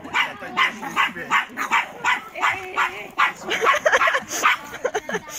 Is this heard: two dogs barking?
yes